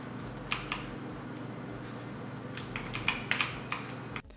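Typing on a Redgear MK881 Invader RGB mechanical keyboard gives a few sharp, close key clicks spread unevenly over a quiet background, ending in one final louder clack.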